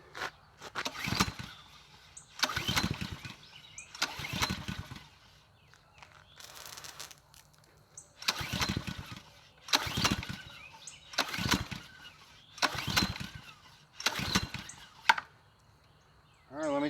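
Honda GCV190 engine on a Ryobi pressure washer, left with old fuel in it, being cranked with a pull cord about ten times in a row, each pull a short loud whir and chug that fails to catch, with short pauses between.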